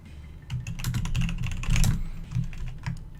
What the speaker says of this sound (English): I'm just going to mute my mic while I'm typing. Just so that you guys don't have to listen to my clacking.